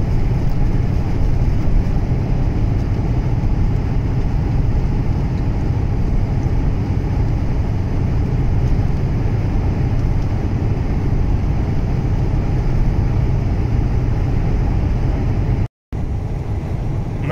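A steady, loud rumbling roar of moving traffic on a road with a train running alongside, continuous with a brief dropout near the end, heard from a truck driving toward the US-Canada border.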